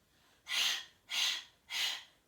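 Three fast, forceful nasal breaths in an even rhythm during a belly breathing exercise, each a sharp rushing puff, close and separated by brief quiet gaps.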